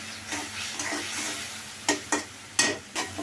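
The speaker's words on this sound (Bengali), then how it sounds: "এখন আমি এটা ভালো মতন কষিয়ে নিব যত কষানো যাবে তরকারিটা তত টেস্ট লাগবে" Spices and dried red chili frying in a pan for a radish and dried fish curry, under a low steady sizzle punctuated by several sharp spatula stirs and scrapes, close and without any talking.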